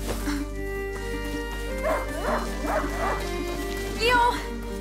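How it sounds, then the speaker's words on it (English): A hunting dog in the video game A Plague Tale: Innocence gives several short yips and whimpers in a row, ending in a louder yelp, over a steady low hum of game music. "A hunting dog is not supposed to lose its hunter."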